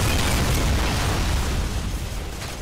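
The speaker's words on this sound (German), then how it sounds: "Okay, Granate explodiert," A grenade explodes in Call of Duty 4: Modern Warfare, a loud broadband blast that decays slowly over a few seconds with no talk.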